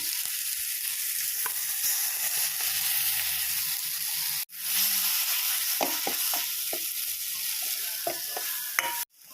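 Ginger, garlic and coconut frying in a pan with turmeric: a continuous close sizzle, briefly cut off, then resuming with scattered clicks of a spoon stirring.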